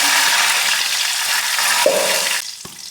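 Cumin seeds and bay leaf frying in hot mustard oil, a loud, steady crackling sizzle that fades near the end, with a brief clink partway through.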